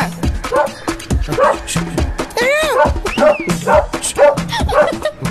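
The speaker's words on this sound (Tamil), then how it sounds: "வாங்க வந்து நாயை பிடிங்க. அது கடிக்காதுங்க." A dog barks and yips in a Tamil comedy film scene: rapid, loud, close barks with whimpering yelps, mixed with excited voices.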